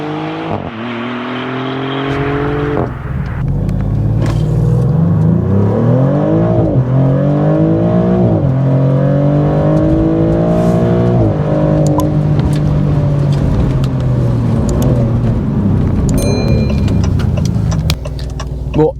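A Maserati GranTurismo Trofeo engine drones and climbs through the gears while driving, pitch rising and falling with each shift, loud and steady from start to finish.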